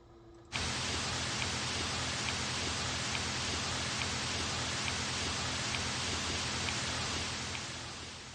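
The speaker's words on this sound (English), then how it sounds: "let's get a hiss." Hiss sound effect in a music production tutorial, a dense broadband noise that switches on abruptly after a brief pause and holds steady and loud with faint periodic ticks, tapering slightly at the end.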